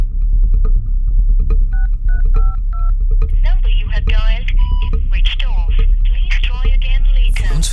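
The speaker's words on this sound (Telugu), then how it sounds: "నేను కాల్ చేస్తా" A phone call is dialed with a quick run of touch-tone keypad beeps over a steady low hum; people then talk over the same background noise.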